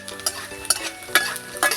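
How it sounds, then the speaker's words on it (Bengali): Peanuts frying in oil in a wok, with a soft steady sizzle broken by several sharp stirring scrapes at close range and no voices. "বাদামটা ভেজে তুলে নেবো আমি"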